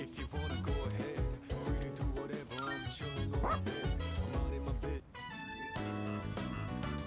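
In Persona 3 Reload, a dog being brushed gives short yips and whimpers in bursts, amid other game sounds.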